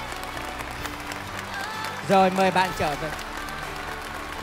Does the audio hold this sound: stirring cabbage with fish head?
no